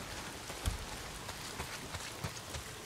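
Heavy rain in the video game Days Gone, a faint steady patter across the whole stretch with scattered heavier drops and no talk.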